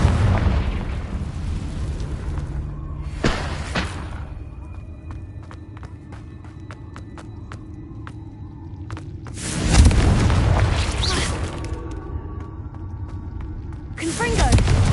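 Fiery Confringo spell blasts from the Hogwarts Legacy video game: three loud, roaring explosive bursts spaced several seconds apart, each swelling then fading into a steady rumbling game ambience with scattered small ticks and clicks between them.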